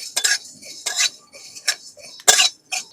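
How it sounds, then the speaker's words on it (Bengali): Whole fennel, coriander and cumin seeds being dry-roasted with a little biryani spice in a dry kadai, heard as sharp scraping and clinking strokes of a metal spatula against the pan, about five bursts with gaps between, close and clear. "এগুলো সব একসাথে শুকনো কড়াইতে ভালো করে ভেজে নেব।"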